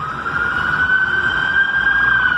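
Police patrol car sirens wail loudly and continuously at a street shooting scene in Mexico City, a steady high tone holding without a break.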